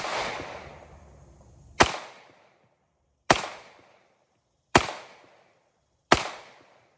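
Colt Mustang Plus II .380 ACP pistol fired outdoors, four sharp loud shots spaced over a second apart, each a crisp crack with a short decaying echo, following a fading rumble.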